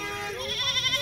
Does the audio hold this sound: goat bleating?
yes